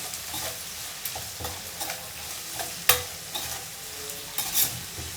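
Okra (lady's finger) sizzles in hot oil in a pan while being stirred, with repeated scraping and tapping of the spatula and a steady crackling fry throughout; no one talks.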